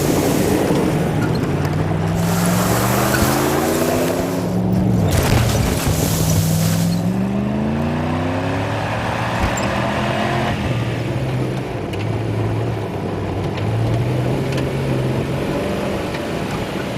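A vehicle driving along, its engine holding a steady, loud drone with rising and falling gear whines and constant wind and road rush throughout, with no talking.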